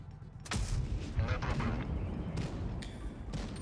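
A single loud tank cannon blast from a T-55A in World of Tanks Blitz erupts early, followed by a rolling rumble and clanking battle noise that persists to the end.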